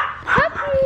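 Puppies give a short whimpering yip and bark close by, a brief high, rising cry mixed with an excited voice speaking over them.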